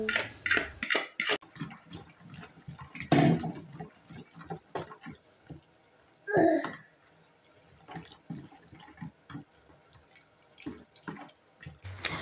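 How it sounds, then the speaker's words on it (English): Small omena fish are washed and stirred by hand in water, giving close sloshing, swirling and splashing with a few louder surges amid quieter dripping and rustling. "Make sure you are stirring your omena until you get that clean omena."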